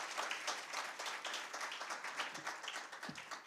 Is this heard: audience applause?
yes